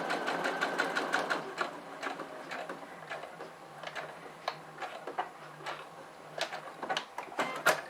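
A sewing machine stitches seams on fabric for a Coralli vanity bag, rapid needle ticking in bursts with brief pauses between runs, close and clear.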